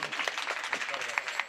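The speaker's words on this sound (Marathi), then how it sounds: "जोरदार टाळ्या वाजून द्या एकदा" An audience at a Marathi kirtan claps together in a fairly quick, loosely rhythmic burst, moderately distant with sharp individual claps poking through.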